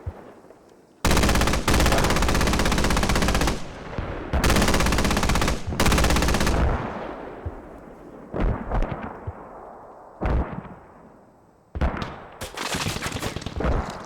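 A BTR armored vehicle opens fire in a competitive battle-royale video game match, with loud, sustained heavy machine-gun bursts, then scattered gunshots and distant explosions fading into later shorter volleys.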